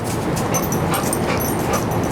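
A dog whimpers in short, close yips and whines, giving a steady run of high, restless sounds with nobody talking.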